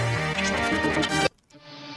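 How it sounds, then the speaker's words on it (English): Sampled, processed guitar section in a song's second bridge, a full dense mix of sustained tones and rhythmic layers that cuts off abruptly, then leaves a quieter tail. "And as well, we have the guitar."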